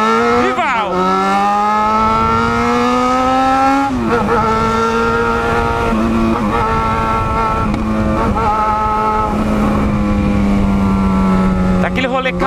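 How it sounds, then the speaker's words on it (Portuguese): Yamaha XJ motorcycle engine and exhaust rumbling loudly and steadily close by, with revving that rises and falls in pitch on a Friday night street ride, popping from the exhaust. "O XJ tá cuspindo fogo aqui do escape."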